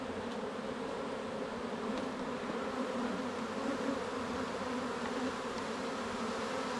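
A dense honeybee swarm, about a month old, hums steadily while being moved into a hive, a continuous buzzing drone at moderate distance with no voices.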